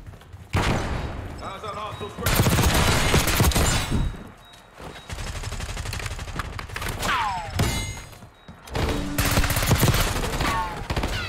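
Rapid bursts of automatic gunfire in the Black Ops 6 shooter game, loud repeated volleys separated by short pauses, with a player talking over parts of it.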